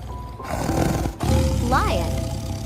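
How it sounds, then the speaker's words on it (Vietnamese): A lion roars loudly and close, a deep rumbling growl with a rising harsh cry in the middle, sounding alone. "Sư tử."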